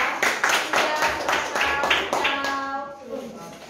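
A small group of students claps for a classroom group presentation, a burst of quick, uneven hand claps that fades out toward the end, with faint voices underneath.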